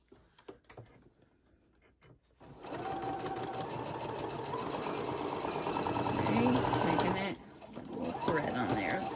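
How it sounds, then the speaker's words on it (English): A sewing machine stitches fabric and fusible fleece in an X pattern for a bowl koozie, starting after a few quiet handling taps and running as a close, steady motor whir with a brief pause before it resumes, with talking over it. "You're sewing it like an X, and all this does is hold your fusible fleece in place."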